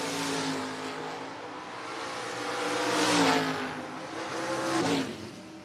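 Drag race cars, a Nova among them, run at a No-Box 660 shootout, engines roaring in two rising surges with high revving whine, loud and close at the track.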